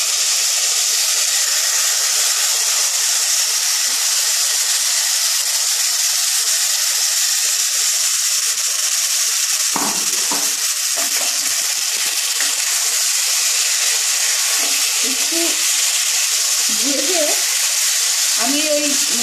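Meat sizzling loudly in hot oil in a pan, a steady broadband frying hiss throughout with bursts of crackling and stirring toward the end, no talking.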